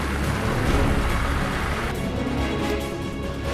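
Heavy rain and strong wind from Cyclone Amphan, a dense continuous roar of pouring rain and gusts, loud and steady throughout with no voices.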